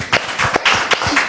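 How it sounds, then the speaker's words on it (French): Scattered clapping from a small audience at a church gathering, a few sharp claps in an uneven rhythm over a short, sparse burst. "je voudrais demander au public de rendre gloire au Seigneur par des applaudissements"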